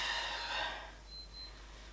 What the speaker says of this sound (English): That beeping is my watch alarm that I haven't worked out how to turn off yet.